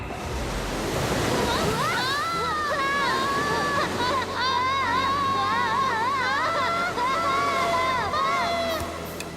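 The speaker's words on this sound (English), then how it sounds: "Do you hear water?" Steady broadband rushing water fills the whole stretch, with voices shouting and chattering over it.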